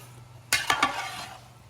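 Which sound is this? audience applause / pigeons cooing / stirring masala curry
stirring masala curry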